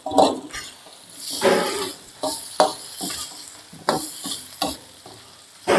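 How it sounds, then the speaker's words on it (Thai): Pounded dried chili stir-fried in a wok while cooking holy basil stir-fry with wild boar: loud scraping stirs repeat in an irregular rhythm over a steady close sizzle, with no talking. "ใส่พริกแห้งครับที่ตำไว้กับลูกโดดครับผมใส่ลงไปพร้อมกันเลย"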